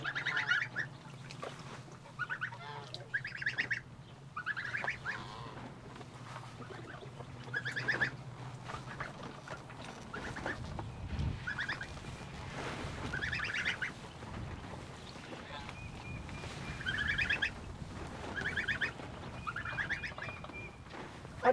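Farm geese honk repeatedly in scattered calls across a long stretch, some near and loud, others fainter, over a low steady background hum with no talk.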